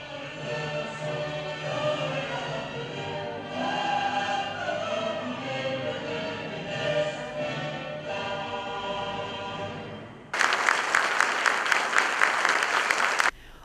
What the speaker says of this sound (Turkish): Programa katılanlar öğrencileri uzun süre alkışladı.